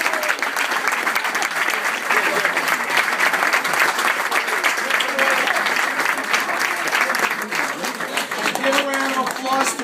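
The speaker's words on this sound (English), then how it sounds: "So give a round of applause to Supervisor Walter." A crowd at a victory celebration claps loudly and continuously, a thick, even roar of hands lasting nearly ten seconds, with a voice starting to speak near the end.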